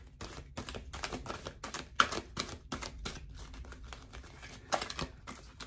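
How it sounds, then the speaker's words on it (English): Cards are riffled and shuffled in quick crisp bursts of flicking and tapping, close up and fairly quiet, with brief pauses between riffles. "let's give it a nice shuffle."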